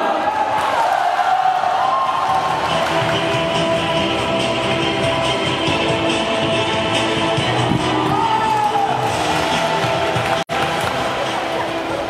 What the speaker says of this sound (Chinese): 首先，让我们掌声有请两届世锦赛花式沙坪的世界冠军黄海洋。